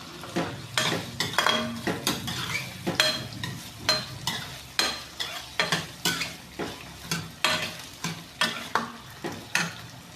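Onions and potatoes fry in a pan for salted rice, a spoon stirring and scraping in a steady rhythm of clanks over a low sizzle, close and without voices.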